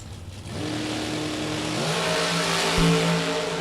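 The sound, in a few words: race car accelerating at a drag race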